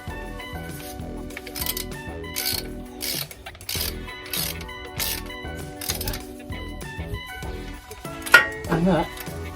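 A hand ratchet tightens a screw on a Mercedes ML55 AMG transfer case, a run of quick close metallic clicks in short bursts, a brief clunk near the end.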